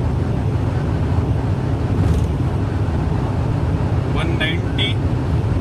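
A 2021 Tata Safari engine drones loudly and steadily while accelerating in fifth gear, with road and wind rumble filling the cabin and a voice speaking over it.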